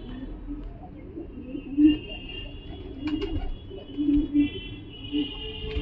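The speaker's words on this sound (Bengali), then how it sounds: "আমার পায়রা আপনি দেখতে পাচ্ছেন গোটা 45 থেকে 50টার মতো পায়রা" A flock of roughly 45 to 50 domestic pigeons cooing nearby, several soft throaty coos rising and falling over a quiet background hum.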